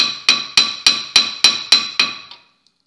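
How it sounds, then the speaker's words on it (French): A hammer tapping a car brake disc during a brake pad and disc change, eight sharp, ringing metallic strikes at an even pace, each decaying quickly, then the ringing fades out. "le marteau, tout simplement, on va venir taper un petit peu"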